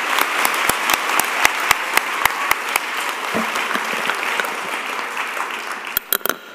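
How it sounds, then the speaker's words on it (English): A room full of people at a graduation ceremony applauds, starting with a few distinct claps that swell into steady, even clapping until it fades near the end. "can we give a final round of applause"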